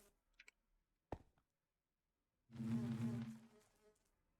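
A Chaos Bee in the Minecraft modpack ATM9 Sky gives off a steady, dense buzz lasting about a second, preceded by a few faint clicks and a sharp tap.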